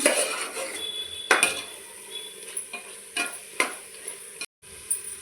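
Spices and ingredients mixed in a pot for mutton biryani, with a low sizzle and intermittent scraping and clinking of a spoon against the pot, close with no talk.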